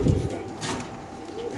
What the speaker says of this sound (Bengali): এখানে কিছু বাচ্চা কবুতর আছে, আমরা দেখাচ্ছি